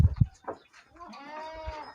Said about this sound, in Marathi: आता शेळ्या इकडं आराम करून बसल्यात